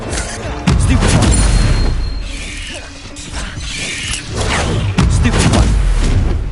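Spell-casting combat effects from Hogwarts Legacy, with a Stupefy spell among loud magical bursts and booming impacts that swell, dip around the middle and surge again, with mechanical clatter throughout.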